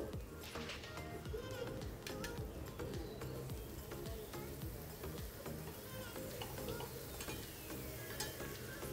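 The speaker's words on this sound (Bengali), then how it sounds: "এখন আমি পেঁয়াজের সঙ্গে খুব ভালো করে মিশিয়ে নেব" Pointed gourd paste stirred and scraped through onions frying in a pan, a steady close sizzle with continuous spoon scraping and no one speaking.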